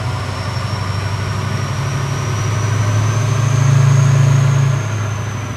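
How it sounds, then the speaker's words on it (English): A Chevrolet 3500HD Duramax diesel truck tuned past 1000 lb-ft of torque runs steadily with a deep engine drone and a loud whistling turbo whine above it. The sound swells slightly near the end. "Yeah, turbo's pretty loud."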